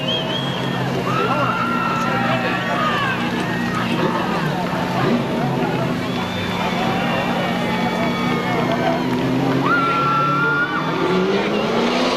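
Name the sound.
race car on victory lap at Seekonk Speedway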